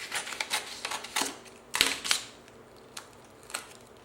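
Vinyl film applied over glass and tile is trimmed with a blade, giving a series of faint, crisp cutting and snipping ticks in short irregular bursts close to the listener.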